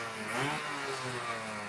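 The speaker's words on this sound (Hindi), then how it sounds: "ये टिपिकल 2 स्ट्रोक साउंड" A two-stroke motorcycle engine running steadily close by, a buzzy, raspy drone with a slight swell in revs, heard alone without talk.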